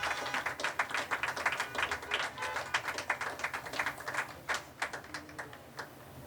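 A graduation commencement crowd applauds, with many hands clapping in a brisk, dense patter at moderate distance, steady for several seconds and then thinning toward the end, with no talking over it.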